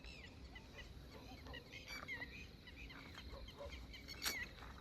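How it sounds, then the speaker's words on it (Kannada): Birds call intermittently around a lake, faint scattered chirps and honk-like cries over a steady outdoor background hiss. "ಈ ಕಡೆನೂ ಪಕ್ಷಿ ಸೌಂಡು"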